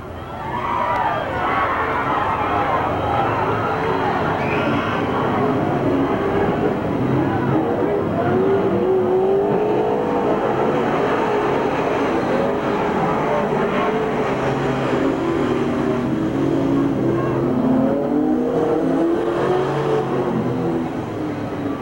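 Race cars roar around Merced Speedway during the 1989 Stofle Classic, a dense, continuous engine drone with revving swells from a distant pack of cars, heard under an announcer's commentary.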